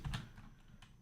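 A few keystrokes on a computer keyboard, close and moderately quiet, with a soft burst of clicks near the start and another single tap later, no voices.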